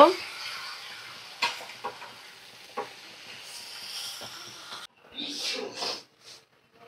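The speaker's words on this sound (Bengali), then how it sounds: "তিল বাটা দিয়ে তিল বাটাটা ভালো করে আমি মিশিয়ে নেব" Sesame paste being stirred in a pan while it cooks for a meat curry, giving a soft sizzle with scraping stir strokes at close range and a voice speaking over it for part of the time.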